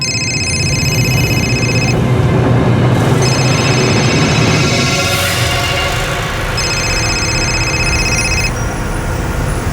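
A telephone rings in repeated electronic bursts, three clear rings separated by short pauses, loud and close over a steady background rumble.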